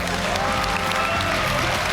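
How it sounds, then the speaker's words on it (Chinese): A studio audience applauds for actress Chen Shu on a Chinese talk show, steady dense clapping filling the whole stretch, close and loud, with a faint voice briefly underneath. "来，掌声送给我们陈数"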